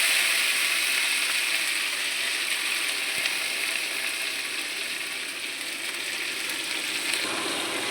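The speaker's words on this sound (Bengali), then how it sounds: "এবার আমি সবজিগুলো দিয়ে দেবো" Chopped bottle gourd greens fry in hot oil with spices, a steady, even sizzle and hiss that continues throughout with no talking.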